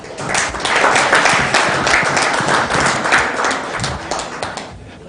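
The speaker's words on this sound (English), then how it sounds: "please clap for yourself." Conference audience applauds in a hall, a dense sustained wave of clapping from many hands that stays loud for several seconds before tapering off at the end.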